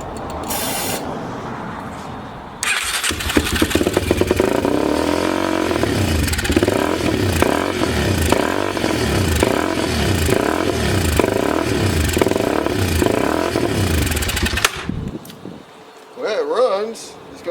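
A 2004 Yamaha TTR 250 dirt bike engine that won't idle runs loudly and roughly for about twelve seconds, with an uneven sputtering rhythm, then cuts out; brief voices are heard before and after.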